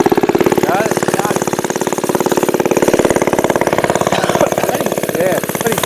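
A motorized scooter from a home build sits idling with a steady, loud, rapid putter that runs throughout, while people talk close by over the engine.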